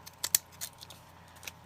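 Craft scissors cut through a book page softened with glue, giving a few quiet, crisp snips and crunches close by, unevenly spaced over a soft background hum.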